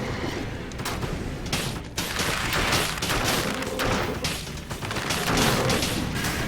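A turret in Dead Cells fires continuously amid combat, a dense stream of rapid shots and impacts with thuds layered over busy game sounds.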